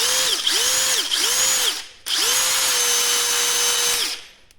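A Parkside Performance PDSSAP 20 Li B3 brushless cordless impact driver runs close up in rapid bursts. Its motor whines and ramps up and down through three short pulses, then holds one longer steady run before spinning down.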